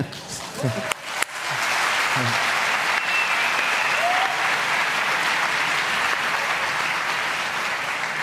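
After a few brief spoken words and hand noises at the start, an audience at a games panel breaks into steady, full applause that continues evenly to the end.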